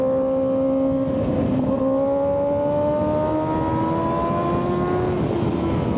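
A Kawasaki ZX6R 636 sport motorcycle engine drones steadily while riding, its pitch rising gradually as the bike accelerates, loud and close with no talk.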